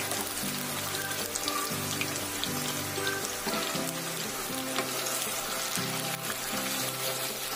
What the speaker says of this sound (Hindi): तो बस तेल में आप मेथी डाला, लहसुन डाला और ये डायरेक्ट इसमें ये डाल दीजिए।